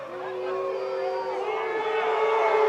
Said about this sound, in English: And the Conant crowd not happy.